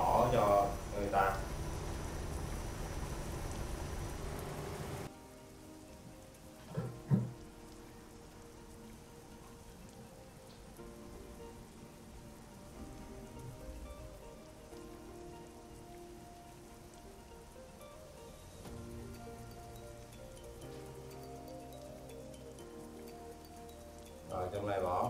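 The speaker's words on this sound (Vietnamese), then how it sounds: "Mưa rồi anh em ơi" Rain falls on a surface near a construction site where a Volvo FH16 750 heavy-haul tractor is working. A loud patter opens the clip, then continues as a softer, steady hiss beneath voices.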